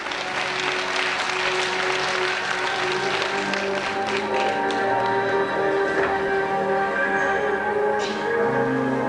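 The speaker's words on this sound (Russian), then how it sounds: "Аплодисменты, друзья!" A philharmonic concert audience applauds as a young fakir performer is introduced, a dense, even roar of many hands clapping throughout, loud and sustained with no talk over it.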